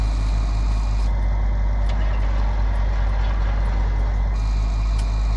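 A tractor engine idles in an Irish farming game, a loud, steady low diesel rumble with a constant drone and a faint higher whine layered above it, running unbroken with no voices heard.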